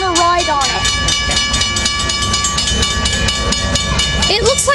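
A passenger train rolls past at San Juan Capistrano in a quiet zone, loud and close, with a rapid steady clatter of wheels over rail joints and sustained metallic squeal tones throughout.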